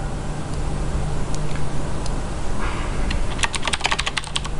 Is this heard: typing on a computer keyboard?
yes